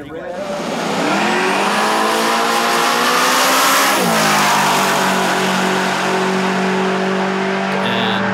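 A Chevrolet Nova drag racing car's engine roars and revs loudly at a midnight drag race, climbing in pitch through a shift, with people talking underneath.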